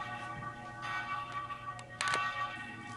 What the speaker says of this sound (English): the bell began to chime